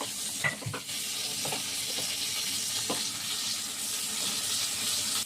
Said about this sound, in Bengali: একদম যেরকম বেগুন ভাজা খাই ঠিক এইভাবে ভেজে নিতে হবে